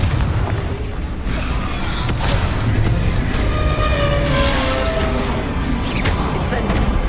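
A Confringo spell blast in Hogwarts Legacy combat bursts out amid continuous loud spell effects, booms and crackling magical impacts that fill the whole stretch without a pause.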